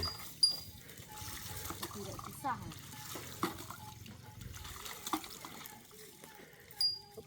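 People bathe outdoors with water drawn from a newly dug well. Faint splashes, pours and trickles come at irregular intervals, quiet and fairly close, with low voices and background noise in between.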